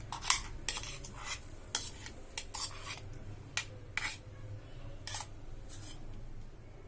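Mango pulp being stirred into amrakhand in a bowl, giving repeated soft scraping and clinking strokes of a spoon at an uneven rhythm, close and fairly quiet, with no talking.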